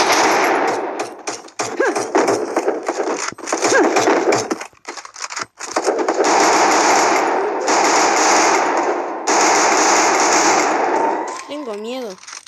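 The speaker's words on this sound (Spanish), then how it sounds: "Ahí ya están disparando." Loud, close automatic gunfire in the battle-royale game Free Fire, long rattling bursts broken by short pauses and scattered single shots, with a voice talking faintly beneath.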